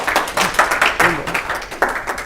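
An audience claps to welcome a guest onto a stage, a modest scattering of hand claps in uneven bursts that fades after a couple of seconds, with no talk.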